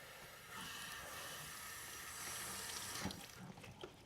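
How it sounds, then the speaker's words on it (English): Water hisses steadily from a leak somewhere along a pipe running to an outside faucet connection, a constant spraying rush with a few faint knocks near the end. "somewhere on the pipe, from this pipe to the outside faucet connection, is leaking"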